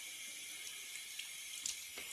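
Warm tap water runs steadily into a sink while rinsing the face during a morning skincare routine, a close continuous hiss with faint splashes and no speech.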